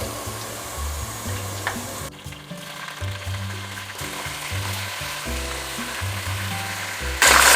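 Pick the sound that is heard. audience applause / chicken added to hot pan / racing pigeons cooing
chicken added to hot pan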